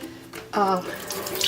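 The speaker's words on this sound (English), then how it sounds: "rinse out the water, because we really don't need this water anymore" Water from soaked red lentils is rinsed and poured from a bowl, a short gushing splash that rises suddenly and trails off into a softer trickle, close and fairly loud.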